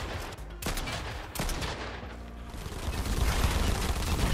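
Gunfire from a Fortnite player shooting while flying on a jetpack, sounding as a steady, dense burst of shots layered over a continuous whooshing roar that grows louder toward the end, with a couple of sharper cracks early on.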